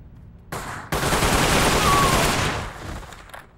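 Sustained burst of gunfire in the Xbox video game 50 Cent: Bulletproof, a dense loud fusillade that starts abruptly and roars for about two seconds before tapering off, with no talk over it.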